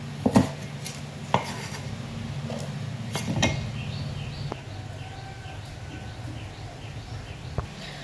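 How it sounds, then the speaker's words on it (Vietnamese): A knife cutting chili peppers in half on a board, giving a few sharp chops and taps spread over quiet kitchen background with faint bird calls. "Ớt các bạn cũng cắt ra cho mình làm đôi làm ba nhé"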